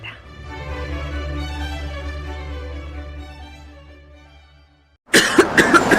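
A short burst of harsh coughing near the end, following several seconds of a low sustained hum and tones with no coughs.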